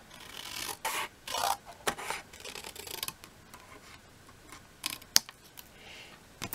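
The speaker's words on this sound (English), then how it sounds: "You'll take your scissors and then you'll just trim just the corners like so." Scissors snipping the corners of a paper gift box, a few short crisp cuts spaced out over several seconds, close and fairly quiet, with light paper rustling between snips.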